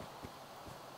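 Horse hooves clip-clop in the Minecraft video game, with two faint, hollow thuds about half a second apart over a steady background hiss.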